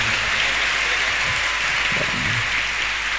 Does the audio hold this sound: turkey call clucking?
no